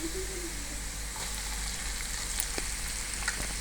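Hot tempering oil sizzles and crackles steadily as ginger is dropped into the pan, with faint stirring clinks near the end.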